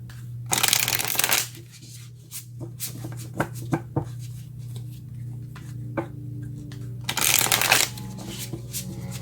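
Tarot cards being shuffled close up, two bursts of riffling flutter at the start and near the end, with soft taps and slaps of cards laid down in between over a low steady hum.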